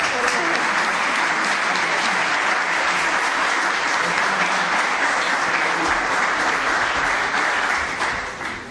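Audience applause at the close of a Spanish-language lecture on Laborem Exercens, a steady, dense wash of many hands clapping throughout, loud and sustained before tapering slightly at the end.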